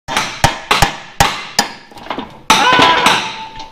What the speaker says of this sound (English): If you just use a bigger hammer.